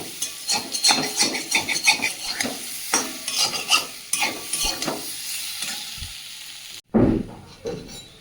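Potatoes fry in a pan for a rustic Bengali village-style curry, with a busy sizzle under frequent rhythmic scraping and knocking of a spatula. Near the end the sizzle cuts off briefly before one loud burst returns.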